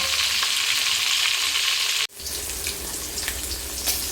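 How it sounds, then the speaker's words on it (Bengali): Rohu fish pieces fry in hot oil with a steady, close, crackling sizzle that cuts out abruptly for a split second, then returns slightly quieter, with occasional spits and pops. "ভালো করে মাছগুলো এদিক ওদিক ভেজে নামিয়ে নেব"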